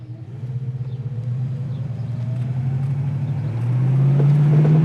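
A 1973 Ford Mustang convertible with a 351 V8 and manual gearbox drives along with a steady low engine rumble that rises in pitch and grows louder toward the end as it accelerates, heard from inside the car.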